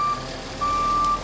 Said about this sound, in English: Here comes the cement truck.